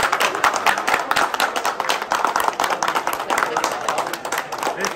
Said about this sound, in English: I think we should all clap for you.